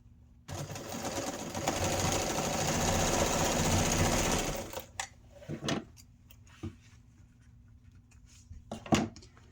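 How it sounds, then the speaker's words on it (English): A sewing machine runs a steady rapid stitch for about four seconds while sewing a fabric drawer organizer, then stops, followed by quieter handling noises and a few sharp clicks and rustles. "And sewing at a 1/4 inch."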